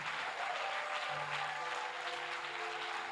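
A church congregation applauds during a French-language sermon, with steady, dense clapping throughout and a faint hum of voices and tonal music underneath.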